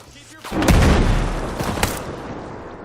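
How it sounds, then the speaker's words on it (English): A mortar blast in Ghost Recon gunplay, a sudden loud booming explosion that rolls into a decaying rumble, with a second sharp crack shortly after. "That blast radius shouldn't be seen. It's a mortar."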